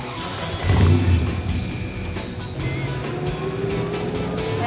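Engine of a restored 1972 Cadillac hearse or 1959 Apache truck starting up and running, a loud low rumble that swells early then settles into a steady, gruff idle with faint background noise.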